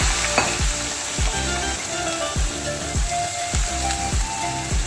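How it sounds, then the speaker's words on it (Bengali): Chopped onion frying in hot oil for a cauliflower fritter dish, a steady close sizzle with rhythmic scraping strokes of a spatula roughly every second, no voices. "পেঁয়াজটাকে আমি হালকা ভাজা ভাজা করে নেব।"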